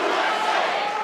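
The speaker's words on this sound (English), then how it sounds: "He is quickly silenced and removed as the partisan crowd chants USA." A partisan crowd at a political event for the U.S. Vice President chants USA, a brief, loud, dense roar of many voices.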